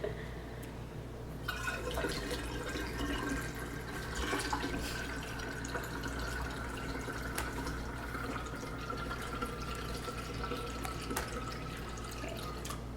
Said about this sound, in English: So this is 6 cups of cold water. We're gonna add that in there.